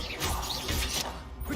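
A Confringo blasting spell in Hogwarts Legacy bursts out as a short, loud crash with a swooshing burst of energy, close and dense over about a second and a half.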